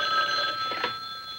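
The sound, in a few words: telephone ringing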